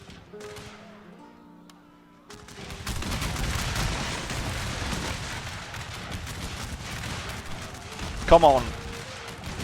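A gunfire volley erupts in a video game battle set in the Battle of the Bulge, a sudden dense burst of shots after a quiet opening, then continuous crackling fire and rumble, with a short spoken line partway through.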